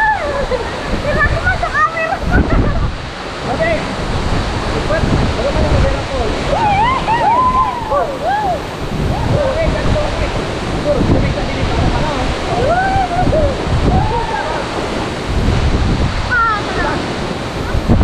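Palali Falls, a waterfall in Barangay Diaro, Malinao, Albay, pours with a loud, steady roar that fills the whole stretch, with people talking and calling out over the rushing water.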